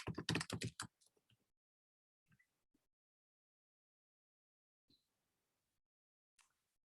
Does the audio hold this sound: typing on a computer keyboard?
yes